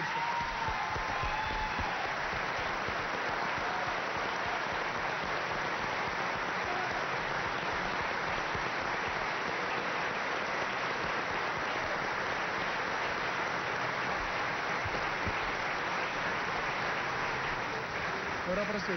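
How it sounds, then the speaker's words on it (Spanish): An assembly applauds the governor of Puerto Rico after his State of the Situation address, a steady wash of broad clapping held for the whole stretch, somewhat distant and muffled. "solicito un fuerte aplauso para el señor gobernador de Puerto Rico, Luis Ortuño"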